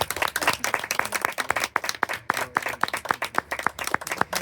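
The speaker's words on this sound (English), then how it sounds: "a big round of applause." Sparse applause at a housing authority appreciation event welcoming Maurice Coleman, a small group clapping with distinct, fairly quick individual claps close by.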